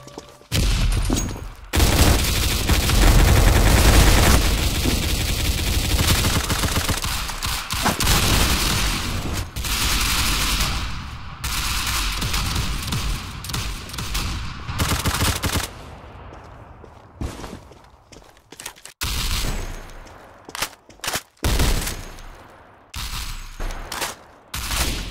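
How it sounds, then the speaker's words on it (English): Shooter video game gunfire: loud, dense bursts of automatic fire and booms roar almost nonstop, then break into scattered, choppier shots near the end. "Opening fire!"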